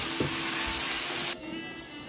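Potatoes and aubergines sizzle in a pan as they are basted, a dense bright crackle that runs loud and steady, then drops off abruptly to a quieter hiss partway through.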